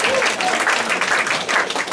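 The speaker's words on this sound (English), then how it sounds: "Big round of applause." Brief burst of steady audience applause at a live Art Battle painting event in Chilliwack, dense clapping from a crowd with some voices underneath.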